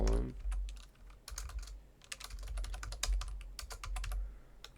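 Typing on a computer keyboard while entering data into a spreadsheet cell, with a close, quiet run of irregular key clicks in short bursts and brief pauses between them.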